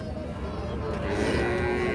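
A cow moos at a busy cattle market where a dry cow and her young bull calf are up for sale, a sustained lowing call over a dense background of crowd noise.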